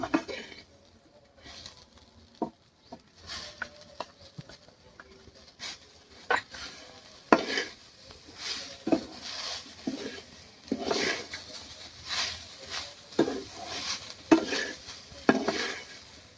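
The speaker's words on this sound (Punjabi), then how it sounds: "ਨਾਲ ਹੀ ਹੁਣ ਪਾ ਦਾਂਗੇ ਜੀ ਕੱਟੇ ਹੋਏ ਟਮਾਟਰ" Chopped tomatoes being stirred into frying vermicelli in a pan, with repeated scraping and clinking of a utensil against the pan over a soft sizzle, steady and close throughout with no talking.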